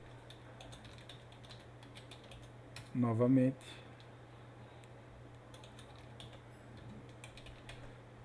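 Light, rapid keystrokes click on a computer keyboard throughout, quiet and close, while someone speaks a single word midway.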